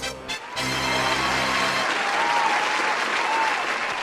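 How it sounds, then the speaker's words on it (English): After a brief tonal musical sting at the start, a loud crowd breaks into sustained applause, dense and even clapping that fills the rest of the stretch without talking. "Give him a round of applause."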